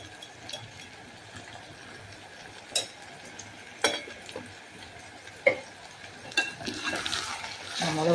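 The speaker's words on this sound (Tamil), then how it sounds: "இந்த கத்திரிக்காய் அப்படியே எண்ணெயிலே வதங்கட்டும்" Brinjal sautéing in oil for kuzhambu, a faint low sizzle broken by a few sharp stirring knocks and scrapes against the pan, growing busier toward the end.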